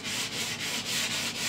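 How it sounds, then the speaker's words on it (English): Sandpaper rubbing back and forth over an old wooden lamp stand side table with a magazine rack for a quick scuff sand, steady close strokes in a regular rhythm with no voices. "I'm going to go and give a quick scuff sand to everything else."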